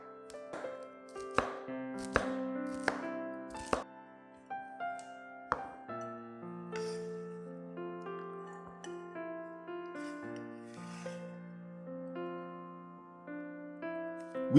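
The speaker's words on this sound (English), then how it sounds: "Now, cut them up into about half to 1 cm pieces." A knife chops long beans into small pieces on a board, with several crisp, close taps early on set against sustained background music that continues after the chopping thins out.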